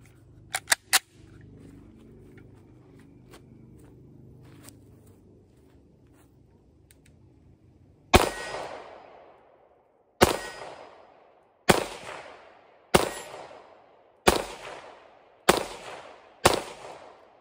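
Seven sharp handgun shots fired from a pistol with a red dot sight, shooting downward at an angle, spaced roughly a second or two apart, each loud crack trailing off in a short decay after a quiet stretch of faint handling noise.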